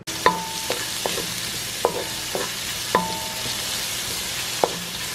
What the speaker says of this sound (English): So I have my wok here. I have some oil in there. I'm gonna start with the onions and the garlic.